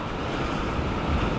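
Ocean waves at a rocky shore in Sydney, Australia: a continuous broad roar of surf with wind buffeting the microphone, loud and unbroken, with no voices.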